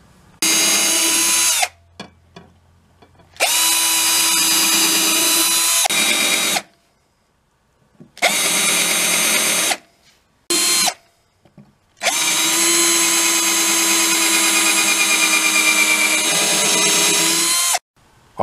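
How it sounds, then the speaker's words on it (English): A power drill bores and countersinks pilot holes in wood, running in several sustained whining bursts that rise and fall in pitch, separated by short pauses, loud and close with no talk. "I'm going to start pilot holes, countersink them"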